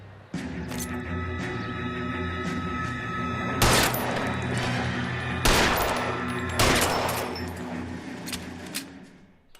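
Shootout gunfire in the video game L.A. Noire: a few loud, sharp shots ring out over a steady bed of game ambience and music, spaced unevenly across the scene.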